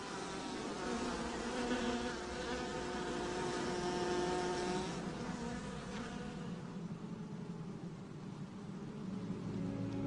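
Dense, continuous droning buzz of many bees close together in a hive built inside a fruit tree's trunk, steady and unbroken for the whole stretch.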